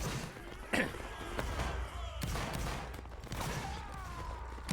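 Musket volleys crack out in a video game line battle, a few sharp, echoing bangs spread across several seconds while players talk and shout orders over the top.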